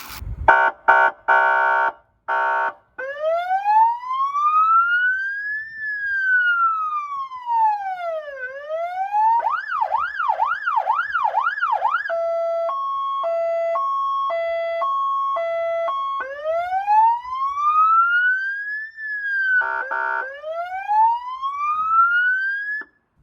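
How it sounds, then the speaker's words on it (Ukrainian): A loud vehicle-mounted special-signal siren, model S-2023, installed on a car, cycles through several patterns: slow rising and falling wails, a fast warble, and a two-tone alternating hi-lo signal, with short horn-like blasts. "Ми покажемо, як працює сирена вже встановленому автомобілі."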